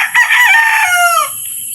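A rooster crows loudly nearby in one long call that trails off, followed by faint clucking.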